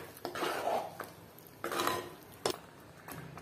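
A spoon stirs curd into a simmering coconut curry in a metal pot for an Onam kalan, giving a few close scraping, sloshing strokes with brief clinks against the pot and short pauses between strokes, with no talking.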